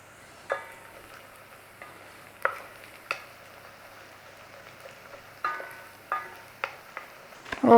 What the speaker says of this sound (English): It normally takes about 8 minutes actually to cook even a little amount of onions like this